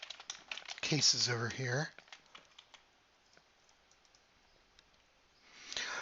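Typing on a computer keyboard while entering spreadsheet labels in Excel: a light, irregular run of soft clicks that continues after a brief burst of nearby speech, with more talking returning at the end.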